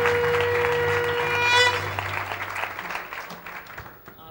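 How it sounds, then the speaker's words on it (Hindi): A crowd of devotees breaks into applause at a welcome gathering, with a dense burst of clapping that swells and then tapers off gradually. "अरे तालियां दादी भगवान के परिवार के लिए।"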